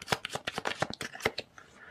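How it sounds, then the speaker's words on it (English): Tarot cards drawn from a deck, producing a quick run of soft, close papery flicks and slaps with brief pauses between them, quiet and without talk. "Get a few more cards from my deck here as well."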